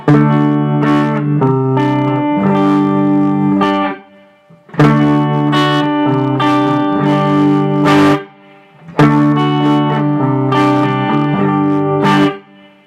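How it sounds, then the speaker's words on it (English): An electric guitar played through a FlyRig 5 pedal with a touch of reverb rings out in three loud strummed chord phrases, each several seconds long and separated by brief pauses. "Different guitar here with a little bit of verb."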